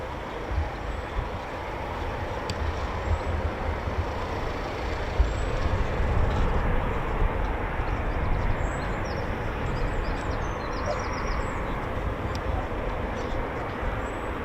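An RAF Typhoon FGR4 fighter jet taxis at an airbase, its engines producing a steady, broad roar at moderate distance that stays fairly constant throughout, with faint distant chirps above it.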